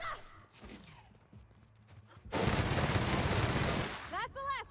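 Gunfire from a weapon in the video game The Outer Worlds: a sustained, dense burst of rapid automatic fire lasting about two seconds, loud and close, preceded by quieter game sounds and followed by a brief voice.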